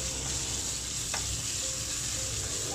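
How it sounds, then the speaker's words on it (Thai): Thai curry paste stir-frying in hot oil in a wok for pork leg with chamuang leaves: a steady, bright hiss of sizzling fills the short stretch, close and even, with one brief scrape partway through and no talk. "เดี๋ยวต่อไปก็เอาพริกแกงที่เราโขกเสร็จแล้วนะครับ ลงไปผัดเลย"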